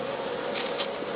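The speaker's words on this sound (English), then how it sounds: "You can see the bees fanning." Bees fanning at a hive entrance give off a faint, continuous buzzing hum, even and unbroken, heard with no voices over it.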